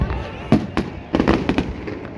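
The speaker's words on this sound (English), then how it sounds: "starting with those Wellington fireworks" Wellington New Year fireworks burst in a handful of sharp, booming cracks spaced irregularly, with a crowd murmuring and voices calling out between the blasts.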